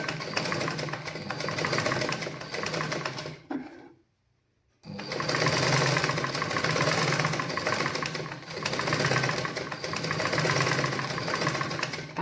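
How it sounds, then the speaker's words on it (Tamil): A sewing machine stitches fabric in a close, steady mechanical whir, stopping briefly for about a second before running on evenly again, with no talking. "நீங்கள் ஸ்பீட்டாக நீங்கள் தைக்கிறதுக்கு வேலை ஃப்ரெண்ட்ஸ் முதல் நீங்கள் மெது மெதுவாக தையுங்கள்"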